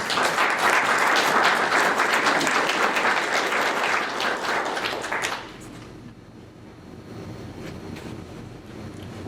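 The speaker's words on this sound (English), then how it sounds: "So a round of applause, please, for the donations we received." At a historical society's annual members meeting in St. Augustine, Florida, the audience claps loudly for received donations for about five seconds, then the applause drops off abruptly to quiet room noise.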